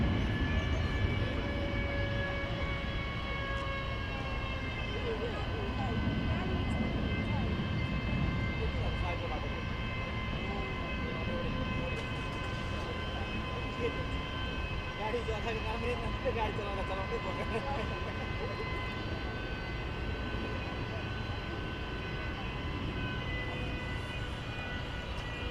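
Played-back takeoff of an Atlas Air Boeing 747 at DFW Airport: a steady, far-off jet roar with a sustained whine runs throughout, while voices talk over it.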